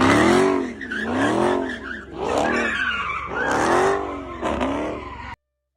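Tires squeal in a series of sharp, loud skids as a car swerves repeatedly on the road in a played traffic video, several rising and falling screeches back to back before cutting off abruptly.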